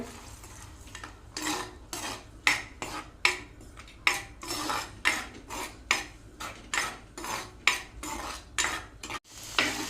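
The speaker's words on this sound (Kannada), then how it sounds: "ಇನ್ನು ಕಡೆದಂತಹ ಮಸಾಲವನ್ನು ಇದಕ್ಕೆ ಹಾಕಿ ಅದನ್ನು ಕೂಡ ಒಂದು ಟೂ ತ್ರೀ ಮಿನಿಟ್ಸ್ ಫ್ರೈ ಮಾಡ್ತೇನೆ" Ground masala frying and being stirred in a pan, a regular series of scraping, clinking spoon strokes against metal repeating over a faint sizzle, close and fairly loud.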